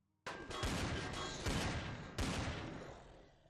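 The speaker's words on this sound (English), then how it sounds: "Switch back to the sniper rifle." Sniper rifle gunfire in the sci-fi survival game Empyrion Galactic Survival: three loud, sharp shots roughly a second apart, each with a long booming tail that decays into reverb.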